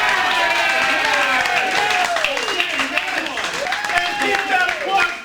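Live improv audience clapping and cheering after a scene, a dense, sustained wash of applause with voices whooping over it throughout.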